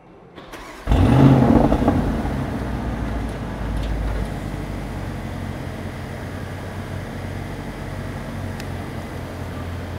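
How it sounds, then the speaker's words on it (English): An Audi car engine starting by remote start: a sharp crank and catch, a brief rev, then a steady idle settling in and running evenly, heard close with no talking. "So it'll run for about 15 minutes now, and the car is on and ready to go."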